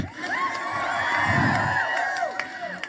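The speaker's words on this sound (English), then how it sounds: "That's right, you can cheer for that." A crowd at an outdoor rally on the Supreme Court steps cheers and whoops continuously, a dense wash of many voices with scattered shouts and a few claps throughout.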